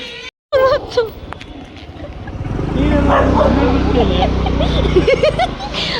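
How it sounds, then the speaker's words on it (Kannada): A dog barks a few times early on, then a rumbling engine-like noise builds and continues, with yips and barks mixed into the steady background. "ಇವಾಗೂ ಕೇಳಿಸ್ತಿಲ್ವಾ ನಾಯಿ ಬಗ್ಳದು?"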